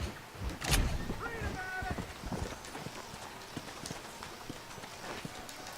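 Horse hooves clip-clopping in the Red Dead Redemption video game, a near, rhythmic run of hoof beats with a brief whinny near the start, steady game ambience, and someone talking at times.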